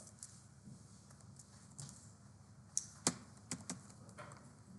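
Keys are tapped on a computer keyboard at a desk during a coding session, a few faint, scattered clicks over a quiet background hum, with no talking.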